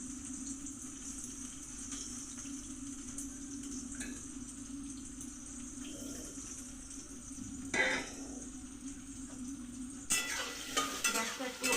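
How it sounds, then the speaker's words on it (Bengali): Soybean and potato curry fries in a pan over a high gas flame, making a low, steady sizzle with occasional stirring scrapes. The sizzle turns into a busier crackle near the end. "গ্যাসটা একটু হাই করে একটু ভালো করে ভেজে নেব।"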